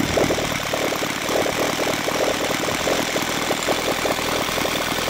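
An OS FF320 model aircraft engine idles smoothly on 20:1 gasoline, a loud, steady, rhythmic putter with even firing pulses throughout and no voices.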